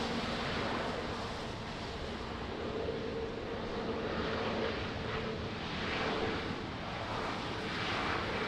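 Aircraft on approach to runway 20 at Lisbon Airport in rain, a steady, fairly distant engine roar that swells and fades slightly over a broad hiss of rainfall.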